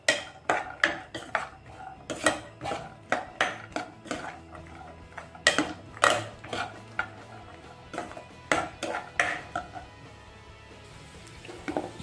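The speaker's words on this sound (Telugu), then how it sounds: "జీడిపప్పు ఇది కొంచెం కలర్ వచ్చేంత వరకు వేయించుకుందాం" Cashew nuts frying in oil as a utensil stirs them in a pan, giving sharp metallic scrapes and clinks in an uneven rhythm over a soft background sizzle, close and fairly clear, with no talk.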